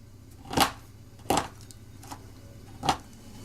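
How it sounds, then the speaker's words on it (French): Chocolate chopped into small pieces with a large kitchen knife: four crisp, separate cuts land on the board at an uneven pace, close and fairly loud against a quiet background. "avec votre plus gros couteau de cuisine, comme ça vous venez hacher le chocolat en petits morceaux"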